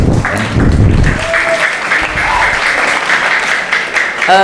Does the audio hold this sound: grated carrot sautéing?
no